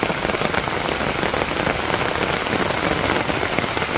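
Rain pours down steadily during the monsoon season in rural Bangladesh, a dense, even hiss of drops hitting surfaces that fills the whole stretch without pause or voices.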